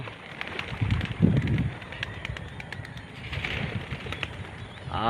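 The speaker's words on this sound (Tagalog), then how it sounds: "Ayan ang mga ibon nyo, paisa-isa labas." Pigeons coo and flutter close by, with bursts of wing flapping as birds leave a loft one after another, amid light rustling.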